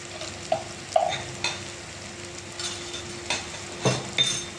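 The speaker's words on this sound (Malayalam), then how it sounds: "ഇതെല്ലാം കൂടെ ഇട്ട് ഒന്ന് ഇളക്കി ചെറിയ മതിരി ഒന്ന് മൂപ്പിച്ച് എടുക്കാം" Ground coriander and black pepper sizzle softly in hot oil while a spoon stirs them, scraping and tapping the pan in a few brief strokes over a steady low frying hiss, for a homestyle chicken curry.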